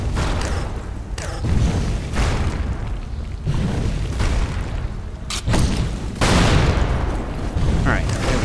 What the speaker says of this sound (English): That was a bad bomb placement.